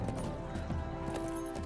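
Galloping horse hooves in the Lord of the Rings Online game, a steady muffled clip-clop under continuous game music and ambience, with faint talk.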